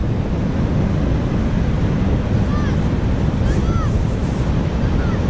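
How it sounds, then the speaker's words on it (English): Steady wind and surf on a black-sand beach at low tide at Cape Disappointment, a broad continuous rush with gusts buffeting the microphone and a few faint high whistles drifting over it. "It's a little windy out"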